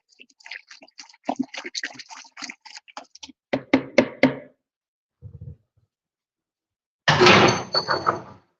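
A sanitized spatula mixes mead ingredients in a fermenting bucket, producing a run of irregular knocks and scrapes, then a brief low thump and a louder burst of scraping near the end, with no talking.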